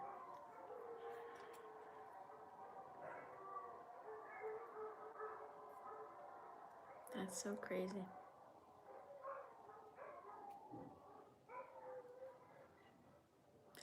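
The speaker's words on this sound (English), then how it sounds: "The dogs are howling at the prayer thing." Dogs howl together against a distant amplified call to prayer, their drawn-out wails rising over a steady outdoor backdrop, with a nearby voice talking over them.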